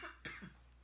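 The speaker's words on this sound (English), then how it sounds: "Excuse me, I keep coughing." A single short cough from a man, close and fairly soft, with quiet background hum.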